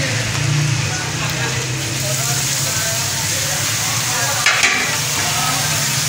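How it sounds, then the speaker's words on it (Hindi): Peas and carrots sizzle steadily in hot oil in a pan while being stirred, prepared for chicken cheese noodles, with a brief clatter of the utensil midway. "हाँ जी, ये मटर गाजर है, ये इसमें डाल देंगे हम।"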